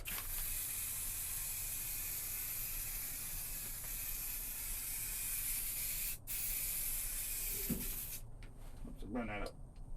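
A restored Hein Werner floor jack spray-painted from a can, a continuous close hiss lasting most of the time, cutting off near the end as someone speaks.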